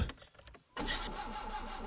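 A car engine in the My Summer Car video game cranks briefly, then catches and settles into a steady, moderately loud idle rumble, with no talking.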